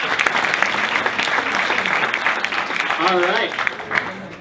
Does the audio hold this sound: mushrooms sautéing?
no